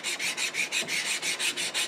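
A Stanley No. 5 plane sole is lapped on coarse abrasive grit, a close rasping scrape repeated in about ten even back-and-forth strokes, with no talk.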